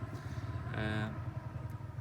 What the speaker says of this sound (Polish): O, jakiś motocykl teraz jedzie.